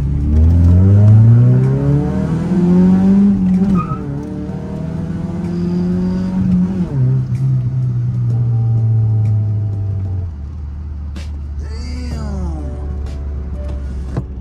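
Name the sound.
1992 Mitsubishi Galant GTi accelerating in second gear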